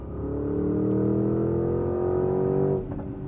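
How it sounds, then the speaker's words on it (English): V8 engine of a 2025 Porsche Cayenne GTS Coupe pulling hard under acceleration, a loud sustained rising growl heard from inside the car that drops off abruptly near the end. "immediate grunt from that V8"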